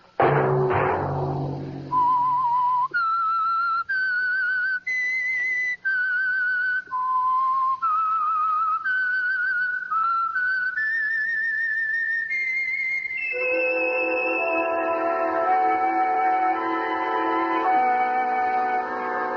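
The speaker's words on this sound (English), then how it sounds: "Let that whistle be your signal for the Signal Oil program, The Whistler" A lone person whistles the eerie theme signal of the old radio mystery program The Whistler, a clear melodic line of separate notes climbing upward, then music swells in beneath it.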